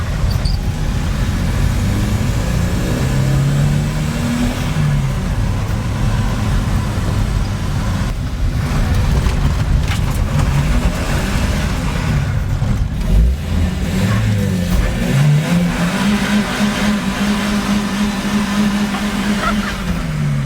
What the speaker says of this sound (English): So we're just going to take it for a drive now and see what we think.